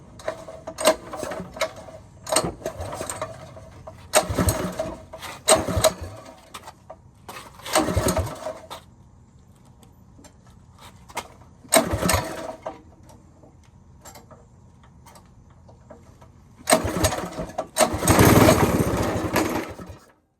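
A cheap go-kart's small engine with a new clutch, revving in uneven bursts that sputter and fade between runs, ending in a loud, sustained roar.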